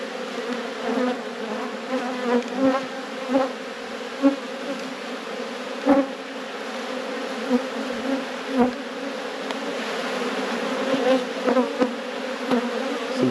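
Honey bees swarm and buzz thickly around an open beehive frame during a hive inspection, a steady dense drone with louder passes as individual bees fly close by; no one speaks.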